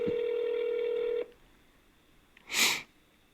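A telephone call is placed: a steady electronic phone tone holds for over a second and cuts off, then after a quiet pause a short, breathy noise burst follows, with no speech.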